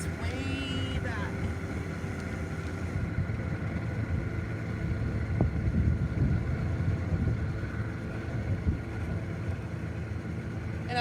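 A propane-fired Olympic kiln burner roars steadily after lighting, a dense continuous rumble with hissing gas that holds loud throughout, with a brief brighter ignition burst near the start.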